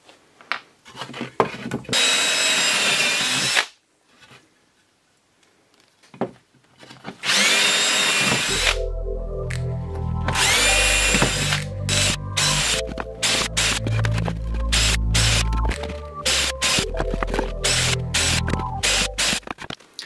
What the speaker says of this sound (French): je vais prendre une mèche à bois de 4 mm tout simplement pour faire l'avant-trou